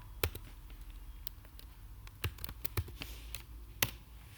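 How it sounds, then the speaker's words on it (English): Quick, irregular taps on a computer keyboard, close and fairly crisp, scattered in small bursts over a quiet room with no talking. "type in the photo we want"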